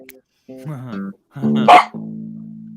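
A dog barks and makes drawn-out, wavering howling cries nearby, with a voice mixed in among the sounds.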